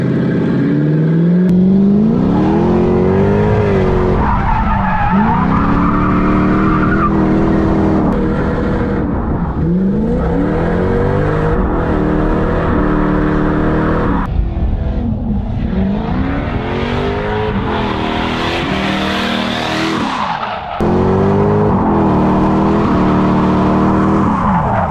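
A car drifting through a stunt in the style of Tokyo Drift, with engine revving up and down and tires squealing and skidding in long sweeping slides, loud and close throughout with no talk.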